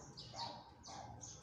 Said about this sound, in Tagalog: Naririnig nyo, nag-tweet-tweet sila.